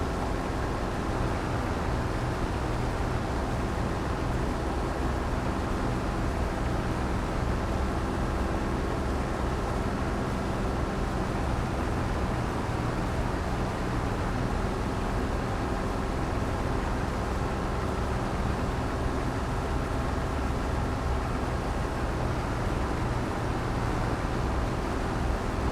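Small tractor in Farming Simulator 22 driving under load, a steady droning engine rumble that stays constant and fairly loud throughout with no pauses.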